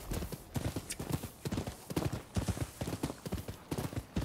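Horse hooves clip-clop steadily in Rise of the Ronin, a rapid, continuous rhythm of close, fairly loud hoofbeats with no talk over them.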